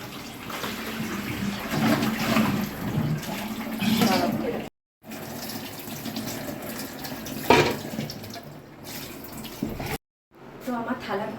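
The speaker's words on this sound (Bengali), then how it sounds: "এখন মেজে এগুলো তুলে রাখবো" Dishes are scrubbed and washed under a running kitchen tap, with steady flowing water, scraping and clattering, interrupted by two brief silent gaps.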